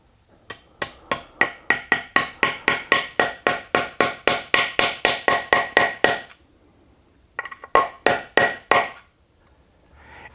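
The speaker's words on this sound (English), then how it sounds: "And then I will tap it with a hammer until I have it nice and flush" Rapid, even hammer taps drive a ferrule into an oak electric guitar body, a long run of sharp close strikes, a pause, then a shorter burst of taps.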